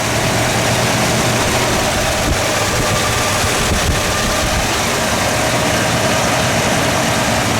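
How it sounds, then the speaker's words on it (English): A 1953 Chrysler New Yorker Deluxe Convertible idling steadily with a deep, rumbling exhaust, loud and constant throughout, with some wind noise. "You listen to that exhaust note for a second."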